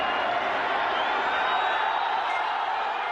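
A large Yemeni football crowd fills a stadium in Aden during an Iraq versus Emirates match, giving off a steady, far-off roar of cheering and whistles that never breaks.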